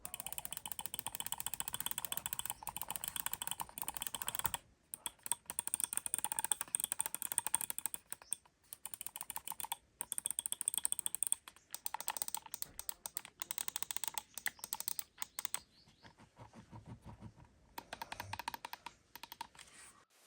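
Rapid, dense clicking and ratcheting notches from an ATK F1 Pro gaming mouse scroll wheel and buttons, close up and continuous, with brief pauses between bursts.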